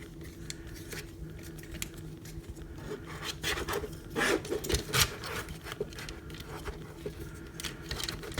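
Plastic Transformers Legends Godbomber toy piece rotated on its hinge, quiet scraping and rubbing with a few sharper clicks, close and faint.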